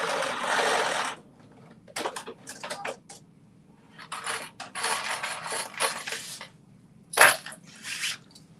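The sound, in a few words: sewing machine sewing a back stitch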